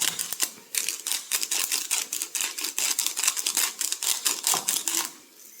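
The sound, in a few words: grinding black pepper with a pepper grinder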